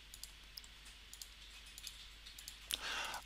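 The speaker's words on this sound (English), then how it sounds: "I can hear George typing away there." Computer keyboard typing and mouse clicking on a remote call, faint, scattered light taps at an irregular pace, with a brighter, louder burst of noise near the end.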